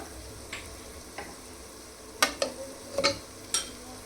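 Spice paste for Kashmiri dum aloo being stirred in a pan, with turmeric, chilli powder and ginger-garlic paste mixed in: a handful of soft scraping strokes at irregular intervals over a faint background sizzle, close and fairly quiet.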